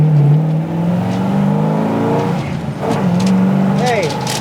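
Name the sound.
1966 Pontiac GTO 350 engine with tri-power carburetor idling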